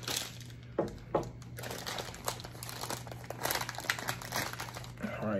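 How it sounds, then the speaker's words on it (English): A plastic Ziploc bag crinkles and rustles in bursts during keto meal prep in a kitchen, fairly close, with a steady background hum and brief voice sounds underneath. "I'll just reseal them in a big Ziploc."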